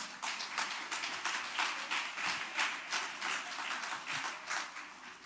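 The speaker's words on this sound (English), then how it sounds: "Give yourselves a round of applause, please." Sustained crowd applause at a Malcolm X Day gathering, dense and steady clapping from many hands throughout, moderately loud with no clear talk over it.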